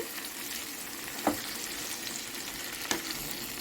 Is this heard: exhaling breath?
no